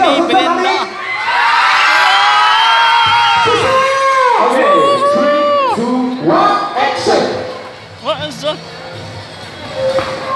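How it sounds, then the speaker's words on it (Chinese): Crowd of fans, many of them children, screaming and cheering loudly at a New Year autograph and singing event in a mall. Shrill sustained shrieks and whoops fade into scattered yells and talk. "Brenda 他说，如果他的他跳舞，你们尖叫声不够大，他是不跳，他大牌的，所以尖叫声在哪里？"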